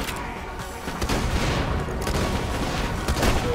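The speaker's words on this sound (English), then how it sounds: "Explosive rounds." Explosive rounds fire in Borderlands: The Pre-Sequel video game, a continuous barrage of booming shots and blasts packed into a dense, steady roar at constant loudness, no talk heard.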